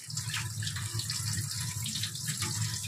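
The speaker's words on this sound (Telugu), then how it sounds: "శుభ్రంగా కడగాలి" Small fish are washed in a kitchen sink under a running tap, a steady close gush of water with soft splashing and handling, no voices.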